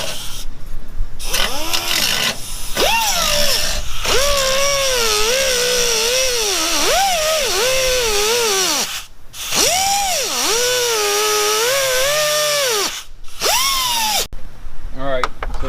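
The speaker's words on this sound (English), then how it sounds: "we use the cutting wheel right here" A cutting wheel bites through a bolt next to the fuel pump on a Duramax truck: a loud, continuous whining grind whose pitch repeatedly sags and recovers under load, broken by a few short pauses.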